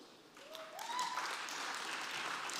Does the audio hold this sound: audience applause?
yes